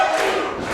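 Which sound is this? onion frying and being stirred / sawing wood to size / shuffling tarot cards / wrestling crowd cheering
wrestling crowd cheering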